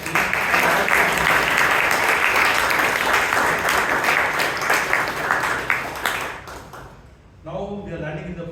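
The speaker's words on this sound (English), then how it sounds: "Let us give a big round of applause to him." Members at a Toastmasters club meeting in Bangalore give a big round of applause for a speaker, with sustained, fairly loud clapping that cuts off near the end, followed by a short stretch of talking.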